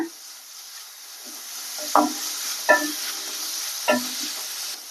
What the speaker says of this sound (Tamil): இப்போ வெங்காயம் வதங்கிடுச்சு பாருங்க, இஞ்சி பூண்டு பேஸ்ட் போட்டுருவோம். இது நல்லா வதக்கி விட்டுட்டு